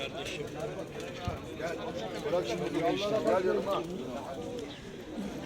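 Pigeons cooing at an open-air bird market in Edirnekapı, soft warbling coos close by, mixed with background chatter and people talking.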